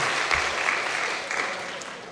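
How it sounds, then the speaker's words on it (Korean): Clapping from a church congregation at a service, a lively burst of many hands that swells, then slowly thins and fades over about two seconds. "라면 가지고 박수 쳐주는 교회는 여기밖에"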